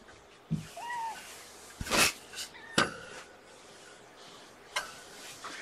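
Kittens give a few short, high meows early on, with scattered clicks and taps around them in a quiet room.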